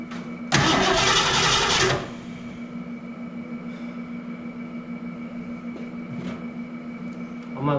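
A 1969 Mercury Cougar engine cranks and catches with a loud, roaring burst, then drops back to a steady, rumbling idle that carries on alone at close range.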